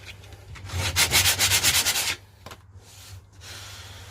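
Primer is sanded by hand, a close, brisk rasping in quick back-and-forth strokes that build into a dense rhythmic burst for about a second, then ease into quieter, slower rubbing.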